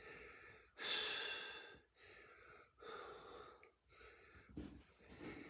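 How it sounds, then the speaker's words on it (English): Slow, deep breaths in and out during a yoga class, held between downward facing dog and pigeon pose. Several long airy inhales and exhales come close and steady, with short pauses between them and no talking. "Taking nice long deep breathing in and out here."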